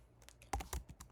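Computer keyboard keys clatter in short, irregular bursts as code is typed, close and fairly quiet, with no talking.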